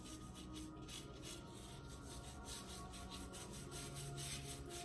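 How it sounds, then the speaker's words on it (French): Close, steady scrubbing of a stiff nail brush rubbing back and forth over toenails in quick repeated strokes, quiet and continuous. "Et maintenant, je vais aller avec la brosse. Alors, c'est pour brosser les ongles."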